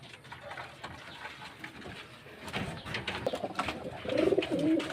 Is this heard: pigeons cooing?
yes